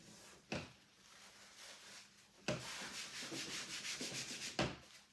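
Chalk drawing is wiped off a reusable surface in two bursts of close, dry rubbing strokes, the second longer and more rhythmic, with quiet gaps between them.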